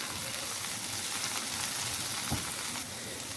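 Chicken and okra (bhindi) frying in a pan with masala, a steady close, loud sizzle that stays even throughout with faint stirring scrapes.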